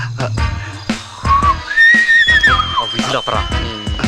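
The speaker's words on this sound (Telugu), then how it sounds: "విజిల్ అపరా." A sharp whistle is blown, rising and bending in pitch over about a second and a half, amid voices and street bustle.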